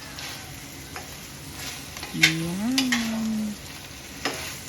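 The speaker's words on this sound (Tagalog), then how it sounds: "Prituhin na natin ang ating masarap na tapa." Beef tapa, already boiled tender, fries in a pan while being stirred, with a soft steady sizzle and a few scraping stirs near the middle, plus a brief voice tone.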